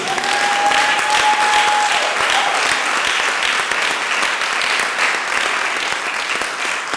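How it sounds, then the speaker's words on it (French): A church congregation claps steadily and loudly for several seconds during a service opening, with a faint whistle or cheer rising briefly above the sustained applause. "Est-ce qu'on peut applaudir pour eux?"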